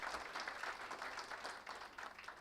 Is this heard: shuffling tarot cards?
no